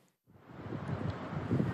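Cold wind gusts through a school courtyard, buffeting the microphone as a low, steady rumble that builds after a brief pause and swells louder near the end, with no voices.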